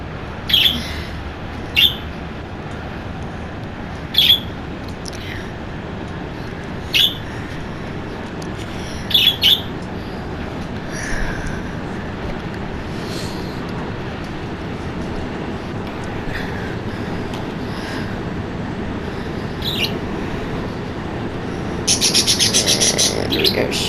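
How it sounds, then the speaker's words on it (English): Pet birds chirp and squawk in a room in repeated sharp bursts over a steady rumble of train noise from a driving simulator, with a denser flurry of calls near the end. "Don't mind my birds"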